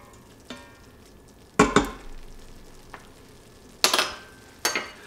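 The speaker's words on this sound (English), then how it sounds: "stir that up" Minced garlic gets stirred in a hot pot, producing a handful of scraping, clattering spoon strokes against the metal over a low, steady sizzle, close by with quiet gaps between strokes.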